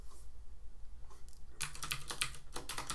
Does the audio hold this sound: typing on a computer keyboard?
yes